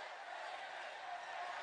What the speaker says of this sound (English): the crowd cheering on AJ